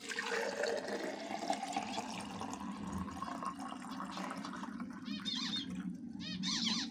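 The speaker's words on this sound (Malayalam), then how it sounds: "നമ്മൾ കുറച്ച് വെള്ളം ഒഴിക്കണം കേട്ടോ." Water poured into a pet water bottle feeder makes a continuous close trickle and fill sound, with bird chirps breaking in toward the end.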